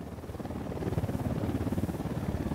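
A helicopter approaches in the video game Ghost Recon Wildlands, its rhythmic rotor thumping pulsing steadily and swelling louder over a couple of seconds.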